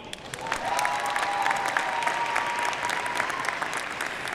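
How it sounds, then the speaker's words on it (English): A crowd applauds at the 2023 UNH Manchester and Granite State College commencement ceremony, steady sustained clapping throughout with a faint tonal hum underneath. "So a big applause for all of you."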